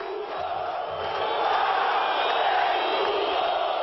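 A divided football stadium crowd in Brazil roars and chants in protest, a massed wall of voices that swells louder after the first second and holds steady, sounding large and somewhat distant.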